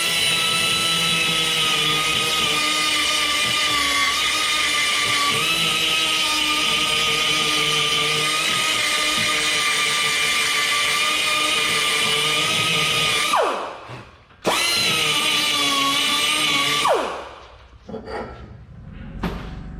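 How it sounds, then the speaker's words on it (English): A small die grinder fitted with a carbide burr runs steadily as it cleans up metal, a loud continuous high-pitched whine that cuts off briefly near the end, restarts, then winds down. "we just got us a little die grinder with a carbide burr on it. We're going to try to clean up some metal in here."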